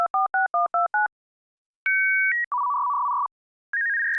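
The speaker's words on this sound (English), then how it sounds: "One of my personal favorites is the dial up." Dial-up modem sound from a Phase Plant synthesizer preset: a quick run of dialing tones, then a pair of steady beeps, a longer single tone and a rising handshake tone, clean and electronic with short gaps.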